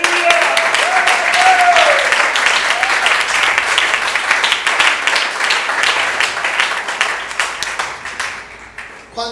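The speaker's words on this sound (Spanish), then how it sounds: "tiene al Señor un aplauso fuerte" A church congregation bursts into loud, sustained applause that fills the room, with voices calling out over the clapping before it tapers off at the end.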